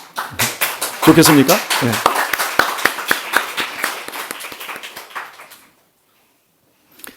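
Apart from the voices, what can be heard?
congregation clapping to welcome the new year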